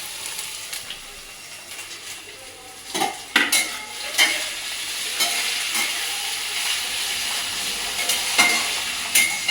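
Capsicum, carrot and other vegetables sizzling in a pan while a metal utensil scrapes and clinks against it in irregular strokes, close and fairly loud.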